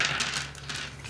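Dice rattle and clatter across a surface during a tabletop board game, a dense, continuous rolling tumble lasting about a second at close range with no voices over it.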